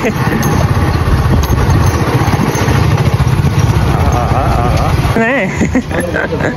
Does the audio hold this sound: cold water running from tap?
no